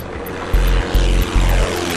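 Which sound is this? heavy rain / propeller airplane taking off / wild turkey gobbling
propeller airplane taking off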